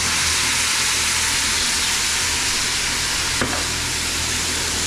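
A hot pan of hanger steak sizzles loudly as it is deglazed with Shaoxing wine, giving a steady, dense hiss throughout with one brief scrape or clink near the end.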